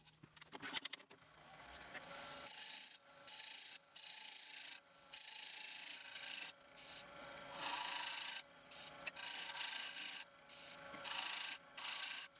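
A scraper works the surface of a roughed wooden bowl with a knot, rasping in repeated strokes a second or so long, separated by short pauses, close and fairly loud with no talking.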